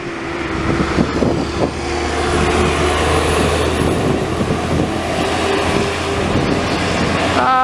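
Road paving operations along a trail near Shenandoah National Park give off a loud, steady rumble of heavy engines and passing traffic, a continuous low drone with a thin high whine, filling the scene without talk.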